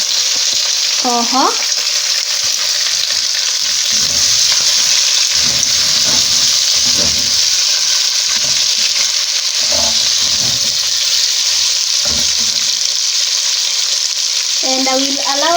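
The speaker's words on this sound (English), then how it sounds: "It has been cooking for some time now, so I'm going to add in the garlic and the tomatoes" Beef matoke sizzles and fries steadily in a pan after garlic and tomatoes go in, with intermittent scraping stirs throughout and a brief voice near the start and end.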